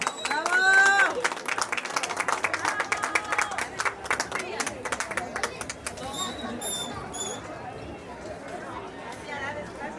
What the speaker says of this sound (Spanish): ¡Fuerte los aplausos para ella!